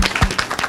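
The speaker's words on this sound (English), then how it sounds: "Let's clap for them." An audience at a church youth gathering claps briefly, a dense patter of many hands close by.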